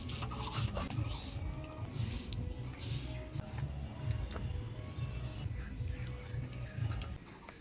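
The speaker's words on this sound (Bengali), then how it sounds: "শুকনো লঙ্কা, এর সাথে কয়েক কোয়া রসুন দিয়ে একসাথে বেটে নিব।" Dried chillies and garlic cloves are ground together into a spice paste on a Bengali kitchen grinding stone, a steady close scraping and rubbing that runs quietly throughout.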